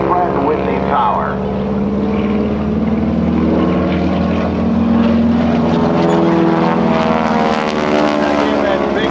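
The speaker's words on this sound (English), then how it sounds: "Listen to that airplane, listen to that history, all that Pratt & Whitney power." A propeller airplane with a Pratt & Whitney engine roars past at a navy airshow, its loud, throbbing engine drone swelling and fading slightly while an announcer talks over it.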